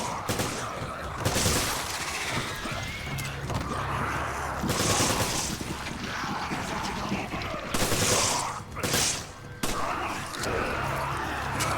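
Gunfire in Resident Evil 5 co-op play, rapid bursts of shots and impacts layered with game effects and music, loud and busy, with occasional voices under the action.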